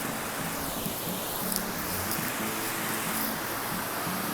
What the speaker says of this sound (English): That's a really pretty little waterfall right there.